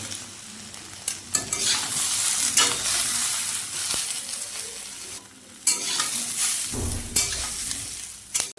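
Drumstick stalks and potato pieces fry lightly in a pan for a Bengali sajne data chorchori, a close, steady sizzle punctuated by scraping stirs and brief dips where the stirring pauses.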